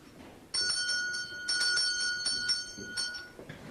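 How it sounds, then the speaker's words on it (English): A bell rings in a few bright, clanging bursts with short gaps between them, clear and moderately close, with no talk over it. "The cowbell sounds tonk tonk."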